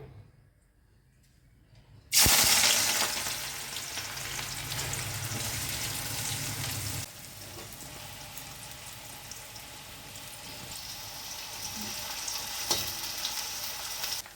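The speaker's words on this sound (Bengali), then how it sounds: "আর পেঁয়াজ ভাজার জন্য কড়াই তেল দিয়ে দিয়েছি" Onions drop into hot oil in a kadai with a sudden loud sizzle after a quiet start, then fry in a steady close hiss that settles slightly softer partway through.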